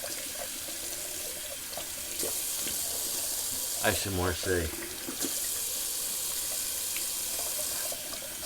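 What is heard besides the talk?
tap water running for a cold water rinse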